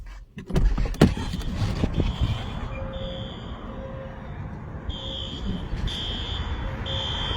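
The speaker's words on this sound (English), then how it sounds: "I hear the fire alarm." An electronic fire alarm, pulled by someone, sounds in repeated high beeping tones, with a few knocks and clatters early on and a faint background rumble.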